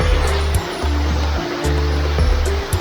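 Kinabuan Falls in Tanay, Rizal, gives a loud, dense rush of water close at hand, with low rumbling pulses underneath and brief crackles on top.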